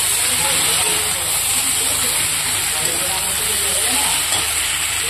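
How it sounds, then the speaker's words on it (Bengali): Fried small fish go into a pan of chorchori and sizzle and hiss steadily and loudly, with someone talking over the frying. "তো এদিকে আমি ভেজে রাখা ছোটো মাছগুলো এবার আমি দিয়ে দেবো চচ্চড়িতে"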